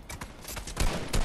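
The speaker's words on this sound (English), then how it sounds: "Now who's shooting me?" Video game gunfire in a shooter match, a short burst of several sharp shots with the last ones loudest and closest, no talk over it.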